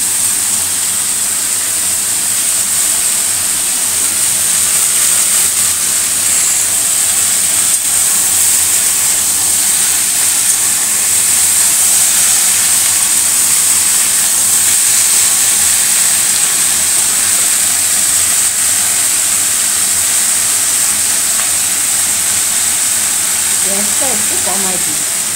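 Flat beans (sim) frying in a covered pan make a steady, even sizzling hiss, loud and constant throughout with no breaks, and a faint voice shows up briefly near the end.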